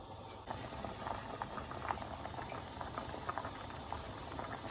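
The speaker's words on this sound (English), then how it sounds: "water's boiling now, so I'm just going to add in the drained rice" Water boils at high heat in a pot of drained rice for Pakistani pea pulao, a faint, steady bubbling with soft irregular pops and patters throughout.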